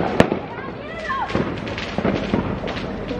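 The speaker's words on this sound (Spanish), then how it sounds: "no sabemos por dónde nos van a venir los petardos" Firecrackers and fireworks going off on Sant Joan night in Zaragoza, a sharp loud bang followed by scattered crackles and distant pops, with a high whistling rocket and people talking amid the noise.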